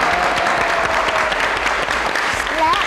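Steady, dense applause from a crowd filling the room, continuous clapping throughout without pauses.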